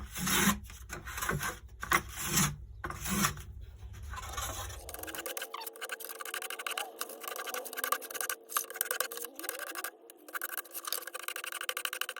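Wooden guitar top braces are filed and shaved down by hand, a close, dry rasping and scraping in repeated strokes, dense at first, then thinner rubbing scratches with brief pauses.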